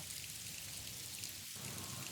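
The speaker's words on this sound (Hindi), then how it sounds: "भगवान, जल्दी से यह बारिश रुक जाए।" Steady rain falling in a forest in a cartoon, an even, dense hiss of drops that stays constant and fairly soft.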